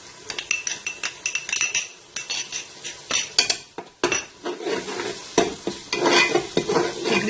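Garlic ginger paste sizzles and fries with browned onions in a pan while a spoon stirs it, scraping and clinking against the metal in irregular bursts over a steady close hiss, with no voices.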